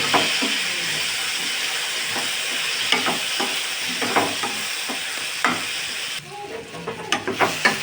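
Potato and tomato curry with chopped ginger sautéing in a pan, a steady close sizzle with repeated scraping stir strokes throughout, the frying hiss dropping briefly near the end as stirring continues.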